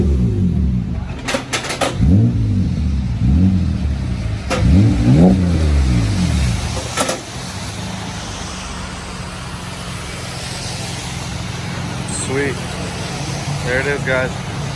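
A 3G Mitsubishi Eclipse with a GReddy titanium muffler revs in short bursts, the exhaust note rising and falling several times before settling to a steady idle, with voices talking over it.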